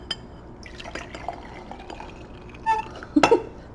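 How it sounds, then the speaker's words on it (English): Hot water, heated in a microwave, is poured into a hot water bath with faint trickles and drips, then a brief clink of glass and a short gurgling pour near the end, close and fairly quiet. "I'll go ahead and pour it into our hot water bath."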